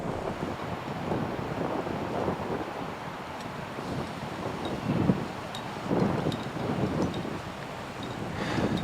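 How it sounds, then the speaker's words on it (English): Strong gale-force wind blows steadily across a cliff-top climbing route in the Blue Mountains, a continuous roaring rush with gusts buffeting the microphone and no speech. "It's freezing, it's blowing a gale"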